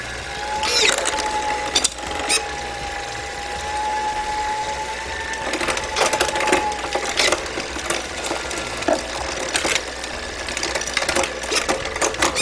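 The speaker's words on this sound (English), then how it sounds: "the front derailleur is automatically changing, so that if it thinks it's going to be rubbing, it adjusts" A Shimano Di2 electronic front derailleur auto-trims while shifting, brief electric motor whirs and clicks recurring over a continuous mechanical hum of the spinning bicycle drivetrain.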